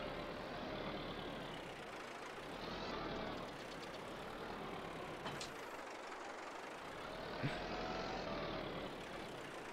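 A tractor engine strains under load while pulling a lime spreader on a Wyoming property, a continuous heavy rumbling drone with slight swells in effort and a faint clank partway through.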